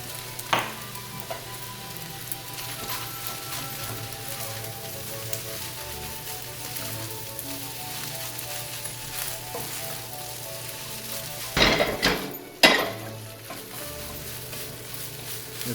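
Fried rice sizzling steadily in a hot pan as soy sauce is poured in, a constant close frying hiss with a couple of louder bursts of crackle and spatter near the end, no voices.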